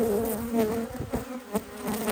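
Honey bees buzz steadily in an open hive during a colony split with young bees emerging from brood frames, a dense continuous hum close by with a few louder swells.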